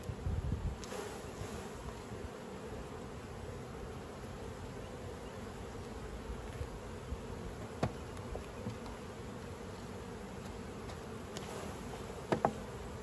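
A steady, dense hum of many honey bees buzzing close around as they are shaken from a hive frame, continuous and even throughout, with occasional faint clicks.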